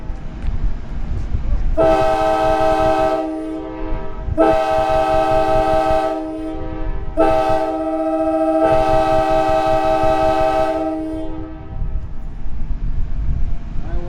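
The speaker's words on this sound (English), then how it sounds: "get a close-up listen to those train horns in action" A loud, close train horn blares in four long chord blasts with brief gaps, over the rumble of a passing train, at an outdoor train days event in Silvis, Illinois.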